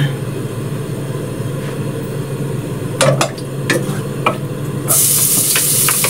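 Ginger frying in a pot as the first step of chicken tinola, a steady close sizzle with scattered clinks and scrapes of stirring, then a louder hiss near the end.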